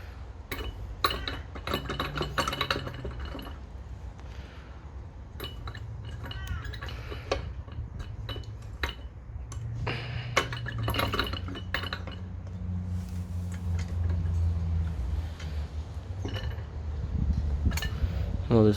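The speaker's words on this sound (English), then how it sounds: "Just got to turn this so we can get this last bolt out." A hand tool turns to loosen the last bolt on a motorcycle's rear wheel during a flapper mod install on a BF F6, giving rapid close metallic clicks and ratcheting ticks in bursts over a steady low hum.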